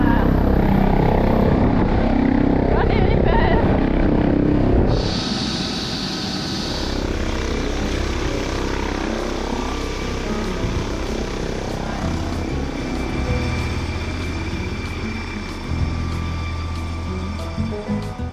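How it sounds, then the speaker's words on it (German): A helicopter arriving to carry an injured downhill mountain biker to hospital in Saalbach-Hinterglemm; steady rotor drone and engine roar fill the scene, loud and close, with gusty wind rumble underneath. "Mit dem Heli ging es dann ins Krankenhaus"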